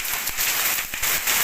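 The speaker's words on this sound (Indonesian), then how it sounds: "Hujan es guys." Hail comes down in Tasikmalaya, a dense, constant hiss of pellets pattering on surfaces with sharper clicks and thumps scattered through it, loud and close, with no talking.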